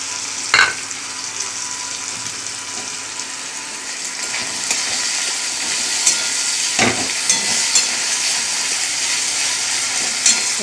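Whole spices hit hot oil over fried fish heads in a home kitchen, giving a steady broadband sizzle with a few sharp crackles and pops scattered through, continuous and close, with no talk.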